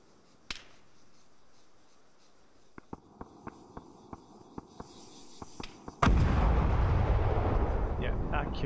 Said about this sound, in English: Artillery strike now, I think, coming in on that MBT.